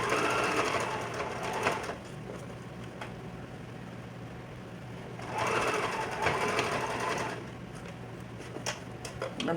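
Sewing machine stitching a closure onto a mesh dome cap, its motor running in a steady whir with two louder bursts of fast stitching, close and alone.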